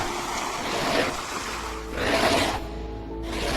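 Ocean waves wash around a ship at sea, a soft continuous surge that swells and recedes in slow, rolling pulses, heard alone without voices.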